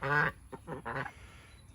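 A few loud, close quacks from a duck come in short separate bursts, with brief quiet gaps between them and another call starting at the end.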